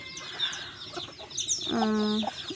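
Close hens cluck and murmur while thin high peeps of day-old chicks chirp around them, with one louder drawn-out cluck near the end.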